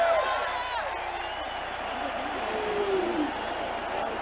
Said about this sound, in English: Crowd gets into it.